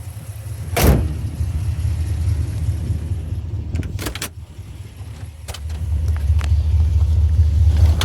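A 1967 Pontiac GTO convertible restomod with an LS3 V8 and six-speed manual idles with a steady low rumble, a door thud early on, and brief mechanical clicks and whirs as it prepares to move off.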